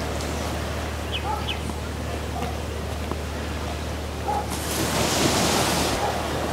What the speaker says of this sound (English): Very nice little beach park.